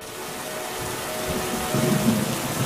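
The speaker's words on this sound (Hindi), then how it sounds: "कुछ दिनों बाद बहुत तेज बारिश होने लगी" Heavy rain pours down in a steady, close hiss, with a low rumble of thunder building underneath toward the end, and no voices.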